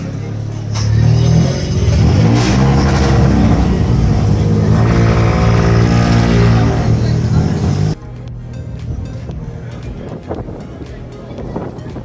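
A Peugeot rally car engine revs loud and close, its pitch sweeping up and down, then drops abruptly to a lower, rougher idle under outdoor wind buffeting.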